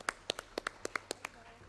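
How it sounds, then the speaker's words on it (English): Sparse, scattered claps from a small audience giving applause to a speaker at a technical session, a handful of distinct sharp hand claps in uneven rhythm. "Give a big round of applause"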